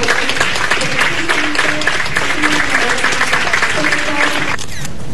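Steady applause from a crowd, dense and continuous for several seconds before tapering at the end.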